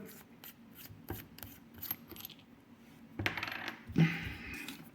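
Convoy T5 flashlight being unscrewed by hand, a series of small metallic scraping and clinking sounds up close, with a louder rattle near the end and no talk.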